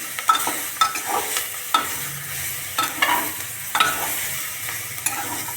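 Onion, capsicum and potato with spices are stirred in a pan, a steady scraping of the spoon with regular knocks over a gentle sizzle, close and clear with no talk.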